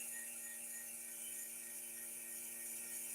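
A woodturning lathe's vacuum pump drawing a vacuum on a jam chuck gives off a constant, even mechanical drone with rapid clicking, like a pawl, steady throughout and without any voices.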